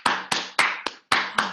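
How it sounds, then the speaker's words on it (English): Hands clapping sharply six times in an uneven rhythm, each clap loud and close with a quick decay, and no voices over them. "and then clap"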